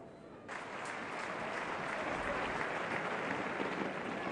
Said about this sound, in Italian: applauso di stima nei suoi riguardi, applauso di incoraggiamento